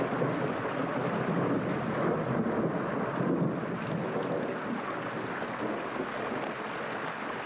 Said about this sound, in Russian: Нам предстоит увидеть совсем необычную грозу.